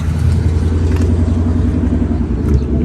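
A new Ford Mustang's engine rumbles at a car meet, a loud, close, steady low drone with no clear revving.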